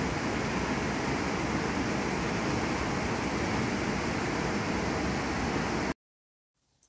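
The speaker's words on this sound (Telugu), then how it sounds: "ఈ లైవ్ వాటర్ సౌండ్ విని ఎంజాయ్ చేయండి." Nethravali (Savari) waterfall in a Goa wildlife sanctuary gives a steady, loud, unbroken rush of falling water for about six seconds, then cuts off abruptly to near silence.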